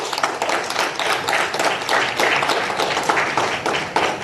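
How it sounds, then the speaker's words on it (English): Steady applause from a crowd, dense clapping that fills the room throughout without letting up. "A huge round of applause, please."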